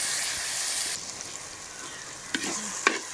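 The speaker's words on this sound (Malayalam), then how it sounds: "പച്ചമുളകും നന്നായിട്ട് വഴണ്ടതിന് ശേഷം നമുക്ക് തക്കാളി ഇട്ട് കൊടുക്കാം." Green chillies and tomatoes sauté in a hot pan with a steady, close sizzle, and brief stirring scrapes come near the end.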